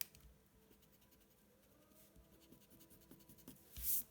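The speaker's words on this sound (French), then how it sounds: "Je vais gommer également celui-ci." Quiet, close scratchy rubbing of an eraser removing pencil lines from a wolf portrait drawing on paper, irregular short strokes ending in a louder brushing swipe.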